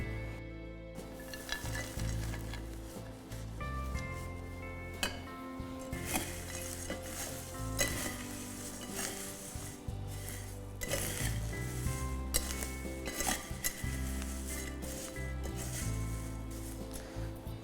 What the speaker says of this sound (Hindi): ये ऐसा मिक्स कर देंगे, इस सब में नमक लग जाएगा।